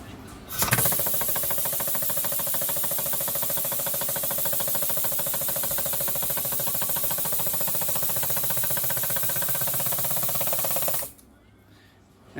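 A press-fit wrist pin being driven out of a connecting rod and piston during an engine build: a loud, steady mechanical grinding drone with a fine rapid chatter runs for about ten seconds, then cuts off abruptly.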